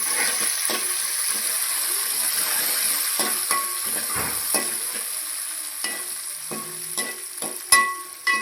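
An eggplant curry with coriander fries in a pan, giving a continuous close sizzle punctuated by scraping and clinking stirring strokes, with a louder knock near the end.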